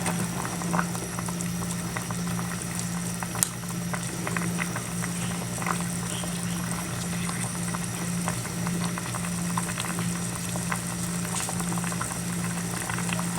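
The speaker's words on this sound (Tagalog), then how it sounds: "Pakuluin po muna natin ulit ng medyo konti pa." A pot of milkfish sinigang soup boils at a steady roll, with continuous close bubbling and gurgling over a low background hum. No one speaks.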